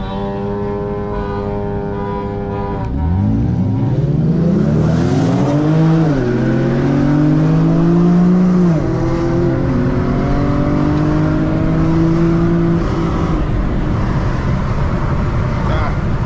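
An Infiniti G37 engine and exhaust during a night street race, heard from inside as a loud rising roar through the gears with clear shifts, under voices talking in the cabin.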